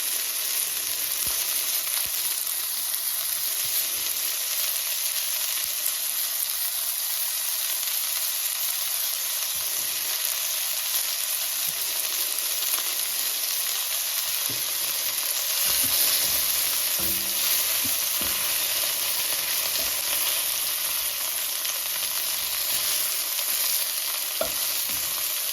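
Mushrooms fry and brown in a pan, giving a steady broadband sizzle that runs unbroken throughout, with occasional soft scrapes and stirring clatter near the end.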